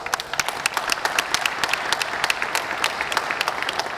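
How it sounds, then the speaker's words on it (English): Steady crowd applause at a World Car Awards ceremony, a dense wash of many hands clapping continuously and fairly loud, with no voices over it. "Big round of applause for this great crowd."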